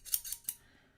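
Three quick snips from old scissors cutting squares out of paper, close and crisp, each a short rasping cut spaced about a beat apart, then quiet.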